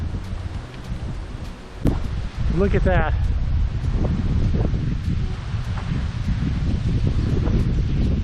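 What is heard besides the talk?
wind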